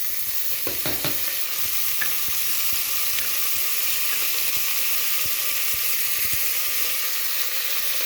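Coriander and curry leaves fry in a pan with a constant, close sizzle, while scattered scraping and knocking from stirring cut through it, most densely near the start.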